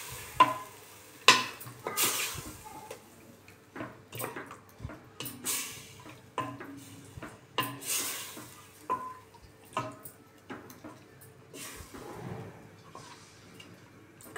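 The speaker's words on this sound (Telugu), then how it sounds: "మంచిగా మిక్స్ చేస్తున్నాను." A spoon stirs a chicken dum biryani mixture in a pot, giving scattered scraping and clinking strokes at an uneven rhythm, close and fairly quiet, with no speech.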